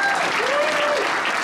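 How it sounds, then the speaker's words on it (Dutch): Dense applause from a comedy roast audience, steady and continuous throughout with a faint voice tone drifting over the clapping. "Applaus."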